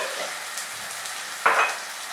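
Roasted coriander and cumin hit a pan of hot oil with a soft, faint sizzle that flares into a brief, brighter hiss partway through.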